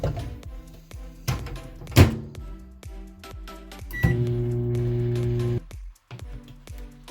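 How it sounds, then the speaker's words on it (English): A microwave oven softens butter in a bowl: scattered clunks and thuds, a short beep, then a steady electric hum for about a second and a half that stops abruptly. "Let's stick it in the microwave here."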